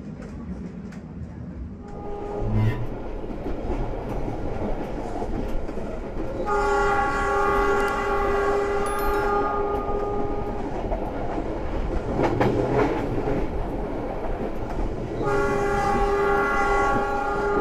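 KA Harina executive passenger train crossing the high Cisomang bridge, a steady rumble of rolling wheels throughout, with two long loud horn blasts sounding over it, one mid-passage and another near the end.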